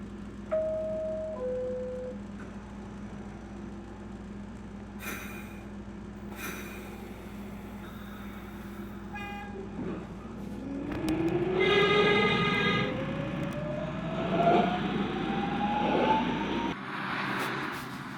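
A New York subway W train at Whitehall Street–South Ferry station, with a low rumbling hum, brief chimes and tones, then a rising electric-motor whine as the train moves, growing louder before cutting off abruptly.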